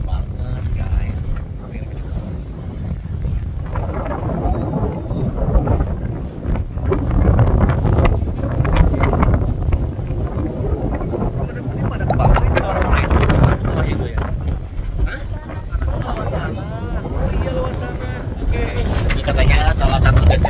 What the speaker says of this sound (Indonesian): Dan anginnya besar banget guys.